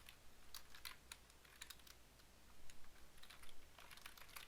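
Someone types code on a computer keyboard in quick, irregular bursts of light clicking keystrokes, close and very quiet, with no voices.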